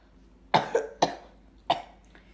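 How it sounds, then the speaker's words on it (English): Four sharp close coughs in quick succession, the first two paired tightly, then one more after a short pause and a faint trailing fifth. "Hold on, I have to cough."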